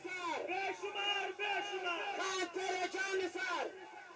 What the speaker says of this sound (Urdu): نعرے بھی لگ رہے ہیں